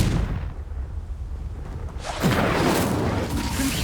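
A Confringo explosive spell blasts in Hogwarts Legacy, a booming roar that swells into a dense crackling burst of debris and rumble, loud and close.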